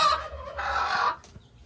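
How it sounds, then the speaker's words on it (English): Newly hatched chicks make bright, high peeping calls in two bursts, the second longer and louder, heard up close with no talking. "There's the chicks."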